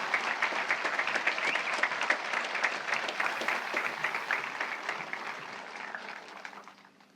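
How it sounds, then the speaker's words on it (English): Audience at a high school graduation ceremony gives sustained applause, a dense wash of hand clapping that holds steady and then fades out toward the end, heard from a moderate distance. "please join me in another round of applause recognizing these students and their parents"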